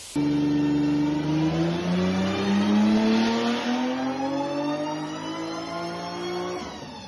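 A loud racing engine revs up steadily, its pitch climbing over several seconds before dropping off abruptly near the end.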